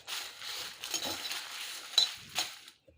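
Peanuts dry roasted without oil and stirred in a pan, giving a continuous dry rattling scrape with occasional sharper clinks of the spoon against the metal, fairly close, with no talking.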